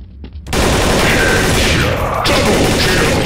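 Counter-Strike: Source gunfire, a brief quiet lead-in and then a sudden loud, sustained burst of rapid automatic shots filling the rest of the moment, with no talk.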